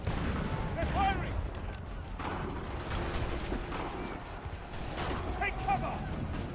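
Assassin's Creed 3 battle with gunfire and artillery fire: dense, continuous rumble of distant shots and booms, with shouting voices mixed throughout.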